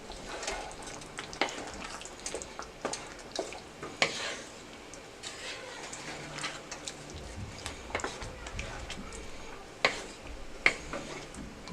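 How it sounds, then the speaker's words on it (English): A spoon stirs baked ziti sauce in a pot, giving repeated scraping taps and clicks at an uneven pace, up close over a faint low sizzle, with no voices. "I'm going to stir that sauce some more"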